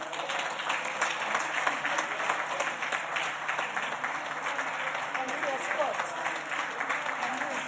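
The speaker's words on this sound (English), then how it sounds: "you can go ahead and clap for her" Audience in a national assembly chamber applauding as a woman is escorted in a procession, a dense steady patter of many hands clapping throughout, with some voices mixed in.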